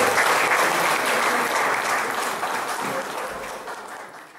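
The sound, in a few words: audience applause at an awards ceremony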